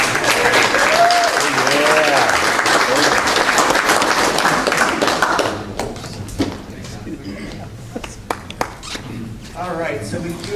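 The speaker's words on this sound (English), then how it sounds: "How about a nice round of applause?" Applause from attendees at a mortgage team event, loud and dense with talk and voices mixed in for the first half, then thinning to scattered individual claps and shuffling.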